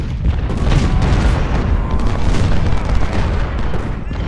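Cannons fire at Cedar Mountain in the strategy game Ultimate General: Civil War, producing loud, continuous rumbling booms that blend into a heavy barrage.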